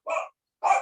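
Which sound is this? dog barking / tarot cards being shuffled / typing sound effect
dog barking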